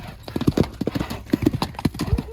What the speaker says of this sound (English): we've got cobs running up